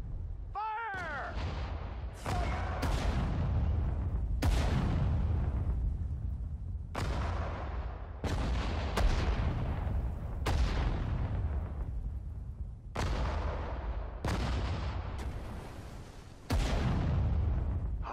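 Artillery guns fire again and again in Sudden Strike 4, a string of about a dozen loud booming shots at uneven intervals, each with a sharp crack and rolling decay, over a steady battlefield rumble and faint voices.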